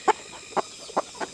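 Semi free-range laying hens give four short clucking calls at a steady spacing, fairly close and clear over a quiet background with no talk.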